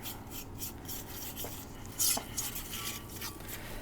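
A utensil scrapes and rubs through butter and flour in a skillet for sausage gravy, producing soft, continuous rasping strokes up close with a sharper clink of metal about midway.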